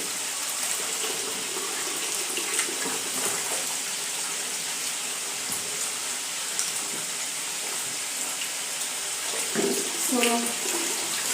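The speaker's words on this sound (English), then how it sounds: "So these other ones, I'll wash them slowly." Kitchen tap water runs steadily while tomatoes are washed, a constant broad hiss with faint clinks and handling noises, growing briefly busier near the end.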